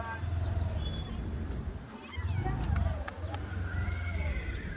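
A horse being ridden gives a thin, faint whinny under loud, steady outdoor rumble, with indistinct voices in the background.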